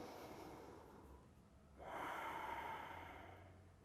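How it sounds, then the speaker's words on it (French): Deep breathing during a stretching exercise, heard as a slow, soft inhale-like rush that swells after a quieter stretch, faint and close, with no talk. "2 grandes respirations."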